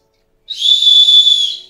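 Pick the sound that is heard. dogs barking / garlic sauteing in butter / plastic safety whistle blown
plastic safety whistle blown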